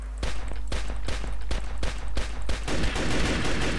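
Rapid gunfire in the Free Fire battle royale game, a quick run of sharp, evenly spaced shots giving way to a burst of louder, denser fire with no talking.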